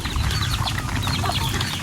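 Several pet chickens cluck and chatter nearby in a busy, overlapping murmur while being fed, with a sharper squawk at the very end.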